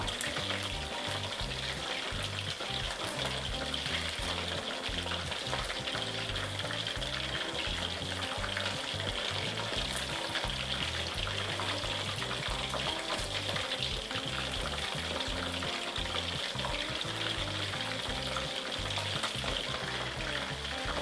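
Chopstick-style chicken pieces frying until golden in hot oil in a pan, a loud continuous sizzle and crackle close up, with occasional stirring scrapes and no voices.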